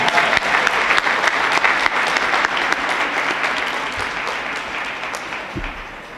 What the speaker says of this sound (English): Give them a big round of applause, because we need them.